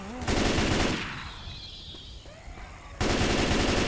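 Loud, rapid bursts of automatic gunfire in the video game Left 4 Dead 2, with a quieter gap in the middle before the shooting resumes.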